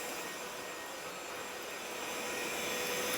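A vacuum cleaner running on its first speed with an attachment fitted, giving a steady, close, even whooshing drone that holds constant and swells slightly toward the end.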